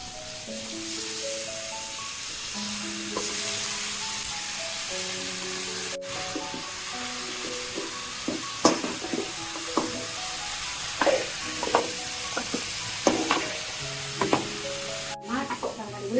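Pumpkin greens hit a pan with fried pumpkin and potato, giving a steady close sizzle with intermittent scraping and clinking of a spatula as the mix is stirred and sautéed.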